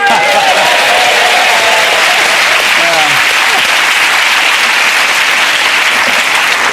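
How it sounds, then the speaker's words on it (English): A television studio audience gives a big, sustained round of applause at a comedy panel show, loud dense clapping throughout, with a voice briefly speaking over the start. "You get a big round of applause"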